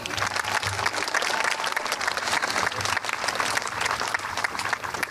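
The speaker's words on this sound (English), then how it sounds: "Can we get one more round of applause for Joey?" A crowd at a middle school eighth-grade graduation ceremony gives a long, dense round of applause that stays steady throughout.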